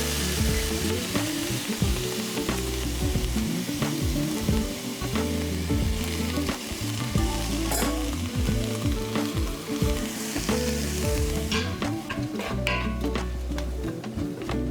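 Diced onion and minced garlic sauté in a hot pan, giving a steady, close sizzle for the whole stretch, broken by frequent scraping and stirring clatter from a spoon against the pan.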